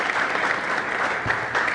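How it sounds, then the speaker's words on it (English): Audience at a Kenyan citizens' assembly applauding as panel members join the stage, a steady, full round of clapping, close and uninterrupted. "A round of applause, please, as they join me on stage."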